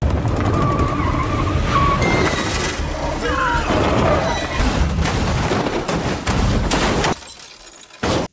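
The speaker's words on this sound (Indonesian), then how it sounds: "karena mobil mereka terkena ranjau paku yang diaktifkan oleh penjaga, akhirnya membuat mobil mereka oleng dan terguling" Film car hitting a spike strip, skidding out of control and overturning, with a loud sustained roar and scrape, crashing impacts and shattering glass before a sudden drop into quiet and one last thud.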